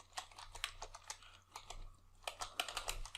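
Rapid, irregular keystrokes on a computer keyboard come in close, clattering bursts with short pauses between them, and no one speaks.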